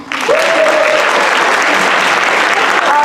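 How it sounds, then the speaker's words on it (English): Audience applause at a school pageant crowning Mr. CCHS, a dense, steady clapping that swells in and holds loud throughout, with a brief whistle-like tone cutting through near the start. "This is when you clap."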